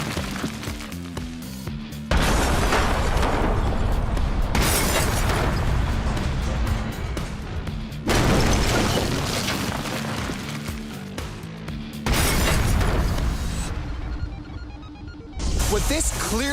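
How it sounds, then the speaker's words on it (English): Propane gas explosion blowing up a house: several separate loud, roaring blasts, each a sustained booming burst with heavy rumble, separated by quieter gaps. "This was an explosion. This wasn't a fireball."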